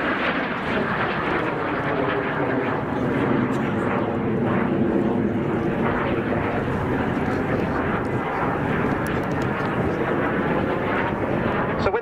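A BAC Jet Provost jet aircraft roars steadily overhead at an air display at RAF Cosford, its engine noise broad and continuous, with a voice talking faintly underneath.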